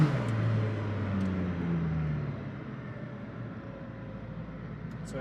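Koenigsegg CC8S hypercars driving past on a Croatian coastal road, an engine note falling away as one moves off, followed by a steady moderate drone of traffic.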